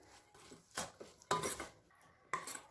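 Oil, curd and coriander leaves mixed in a bowl, heard as a few light clinks and scrapes of a spoon against the bowl spread across a short, quiet stretch.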